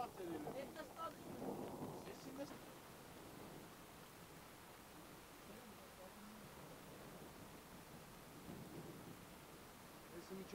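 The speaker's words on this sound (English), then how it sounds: "we spent one night taping a thunderstorm" Mountain thunderstorm with steady rain hissing throughout and low rolling thunder swelling early and again near the end, faint and distant, with a voice murmuring in the background.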